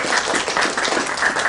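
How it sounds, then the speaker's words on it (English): Dense round of applause from a large crowd, loud and close, a continuous crackling wash of many hands clapping at once with no voices over it. "Give yourselves a big round of applause"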